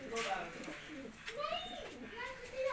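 A male pigeon coos in repeated soft, rolling phrases close by, with low voices talking alongside.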